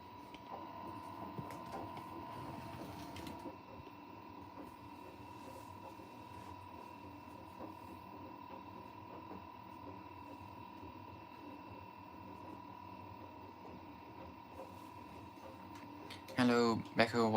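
A large 69-litre washing machine drum turns with a low mechanical hum and faint whirring, steady and quiet, ending with a brief louder clatter.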